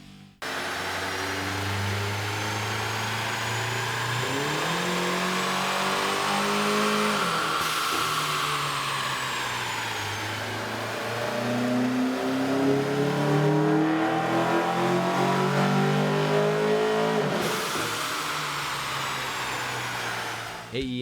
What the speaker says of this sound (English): Here's a comparison of the Focus sound on the dyno with the stock OEM system versus